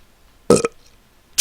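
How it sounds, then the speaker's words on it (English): A single loud, close burp made straight into the microphone, a short throaty rasp lasting about a quarter second, with silence around it and a brief sharp noise at the very end. "you want to fucking burp to the mic some more?"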